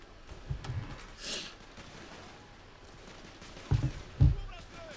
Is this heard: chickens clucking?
no